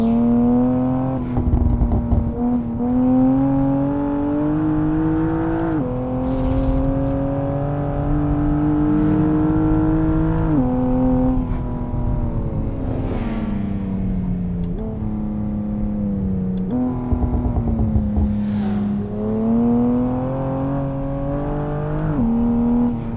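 BMW M2 Competition engine pulling hard on a public road, loud and close, rising through revs in repeated climbs with brief dips at each gear change, alone without talk.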